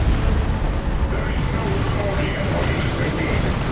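Destruction of a Land Raider Phobos in Dawn of War II: Retribution, a loud, dense rumbling blast filling the whole clip amid battle noise, with a voice talking over it.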